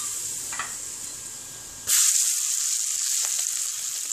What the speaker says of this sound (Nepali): अब तेल तातो भइसकेको छ, यसमा बेसार राख्दिनुस्, रातो खुर्सानीको धुलो